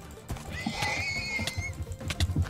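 A horse in a video game lets out one long, loud, shrill whinny, with clip-clop hoofbeats and scattered thumps around it.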